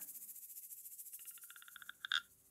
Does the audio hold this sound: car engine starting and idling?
no